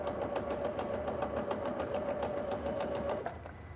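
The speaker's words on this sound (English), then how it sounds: "I'm going to sew right over the pleat" A sewing machine with a walking foot stitches over a pleat in a quilt, giving a steady, close, rhythmic whirring hum that runs for several seconds and then stops abruptly near the end.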